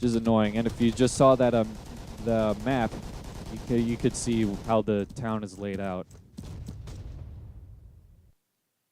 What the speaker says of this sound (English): That is the sound of the German rifle.